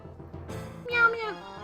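A player's voice imitates a cat meowing during King's Quest II, giving a couple of short, rising, nasal meows that are fairly quiet and close.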